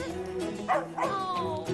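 A cartoon dog from the animated film Bolt gives short yipping barks and whimpers, close and clear, with a voice briefly mixed in.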